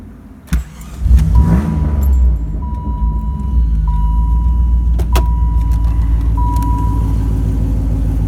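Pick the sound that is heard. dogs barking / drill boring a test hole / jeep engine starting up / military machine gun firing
jeep engine starting up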